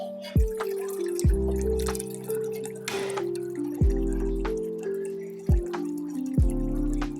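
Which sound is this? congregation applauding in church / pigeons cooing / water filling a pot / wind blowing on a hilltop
water filling a pot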